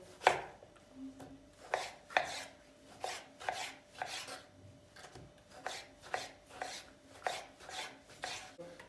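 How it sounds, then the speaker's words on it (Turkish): Knife chopping soft tomatoes into small pieces on a board, a run of crisp evenly spaced taps close by, about two per second, with no talk. "Domatesleri de ufak ufak doğruyoruz."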